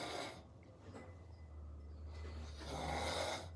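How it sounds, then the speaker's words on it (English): A man snores in his sleep, slow rasping breaths rising and falling over a steady low hum, with the louder snore swelling near the end. "So this is part 2 of my brother-in-law snoring."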